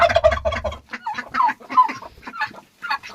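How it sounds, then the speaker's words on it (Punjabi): Chickens and a turkey clucking and calling as they are let out of their pen, a dense cluster of close, overlapping fowl sounds at first, then scattered clucks continuing throughout. "ਹੁਣ ਲੱਗੇ ਆ ਜੀ ਅਸੀਂ ਕੁੱਕੜ ਛੱਡਣ ਵੇਖੀਏ ਕੁੱਕੜਾਂ ਕੀ ਕੁਝ ਕੀਤਾ ਨੇ"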